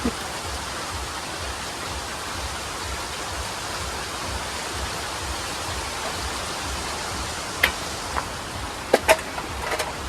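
Steady monsoon rain pours on a village with a thatched hut, a dense, even hiss throughout, with a few sharp clicks and taps near the end.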